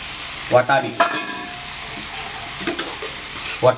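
Tomatoes and boiled peas stir-fried in a pan for Schezwan fried rice: a steady sizzle with several sharp spoon scrapes and clanks against the metal, no talk.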